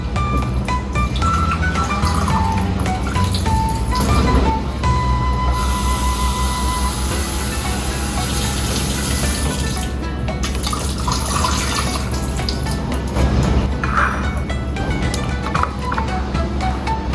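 Canned button mushrooms are rinsed under running tap water, a continuous hiss of flowing water with occasional clinks and splashes throughout.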